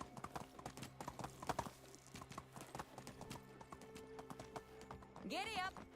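Horse hooves clip-clop at a steady, fairly close pace in the Medieval Dynasty video game, faint overall, with a voice speaking and a neigh near the end.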